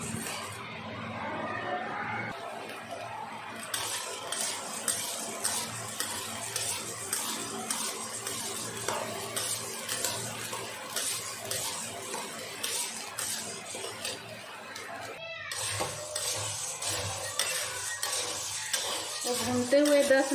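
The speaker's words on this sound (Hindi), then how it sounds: "ऐसे चलाते हुए इसको 10-15 मिनट में भूनना है।" Chickpeas roasting in a pan are stirred continuously, producing a dense, rattling scrape and light sizzle with repeated clattering of spoon against pan and a brief pause before the stirring resumes.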